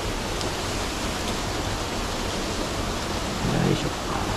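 A waterfall pours into a plunge pool on a mountain stream in Hokkaido, a loud, steady broadband roar close by, with brief movement near the end.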